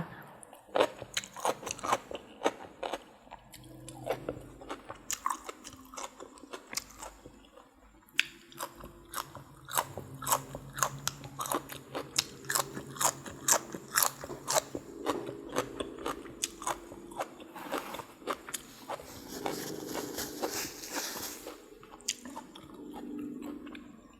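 Close, loud crunching bites and wet chewing of spicy Thai cucumber salad with fermented pork sausage, alongside fresh bitter melon, carrot and morning glory, with bursts of crisp crunches repeating steadily for over twenty seconds and no talking.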